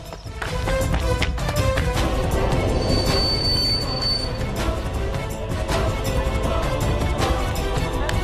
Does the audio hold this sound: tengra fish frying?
no